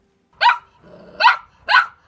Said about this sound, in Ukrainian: Грайливий щенячий гавкіт розбурхав простір